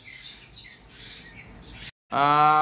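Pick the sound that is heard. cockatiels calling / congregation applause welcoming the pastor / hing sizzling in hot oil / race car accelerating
cockatiels calling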